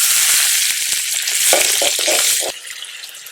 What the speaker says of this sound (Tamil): இப்ப நம்ம வெங்காயத்தை போட்டு உப்பை போட்டு வதக்கிக்கிறோம்.